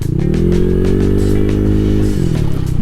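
A Honda Click 175cc scooter engine pulls hard under acceleration, a close, loud buzzing drone that rises in pitch, holds, then drops off, with no one speaking.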